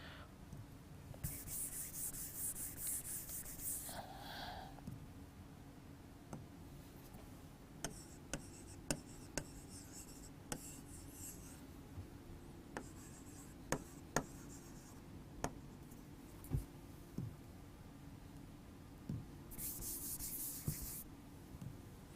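Someone writes on a classroom board during a biology lesson, producing faint scratchy strokes and a series of sharp taps as the marker meets the surface, all quiet and with no talk.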